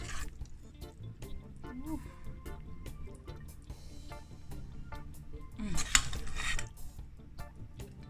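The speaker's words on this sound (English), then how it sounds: "gonna plate up this pasta first" Cheesy pasta being plated onto a dish, giving soft utensil clinks and scrapes against crockery over steady background music, with a brief louder clatter near the end.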